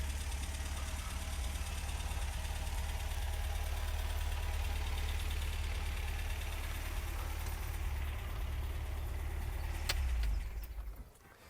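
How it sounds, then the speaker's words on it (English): A 1971 MG MGB Roadster engine idles with a low, steady rumble, then cuts off abruptly near the end, leaving near quiet. "I'll shut down that engine and save a few trees"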